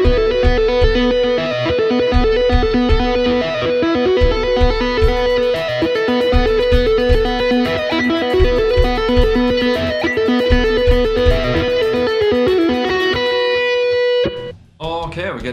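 Tapped electric guitar riff in a Mixolydian mode, with muted open strings, played as a fast continuous stream of distorted notes over a steady low pulse for most of the passage before cutting off near the end.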